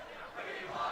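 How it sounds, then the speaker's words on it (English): Basketball crowd at a boys' high school game chanting for a favorite player, a loud, sustained mass of voices rising and swelling toward the end, heard from a distance in a gym. "Crowd cheers that we want Rafe"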